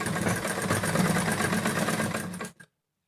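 A sewing machine stitches along the edge of a newborn baby's shirt, running a fast, steady mechanical whir close by for over two seconds before it stops abruptly.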